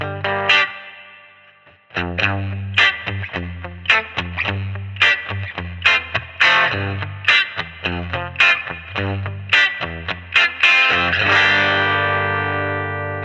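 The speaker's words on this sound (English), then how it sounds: "Add a little bit of reverb." Electric guitar played through a Kazrog Airline amp plugin on a clean tone with a little reverb added, with steady strummed and picked chords ringing out and a reverb tail softening each attack.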